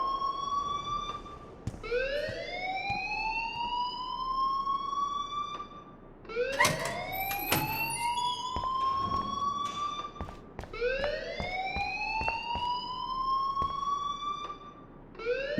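An alarm blares in the Life Is Strange video game, a loud rising siren wail that repeats in long upward sweeps every few seconds and continues steadily throughout, with clanking noises mixed in.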